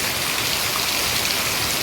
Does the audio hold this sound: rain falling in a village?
yes